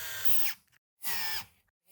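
Power screwdriver driving the supplied screws to fix an amplifier onto a mounting plate in a Mercedes C-Class W205 Burmester sound system upgrade: two short whirring bursts close by, separated by brief silence.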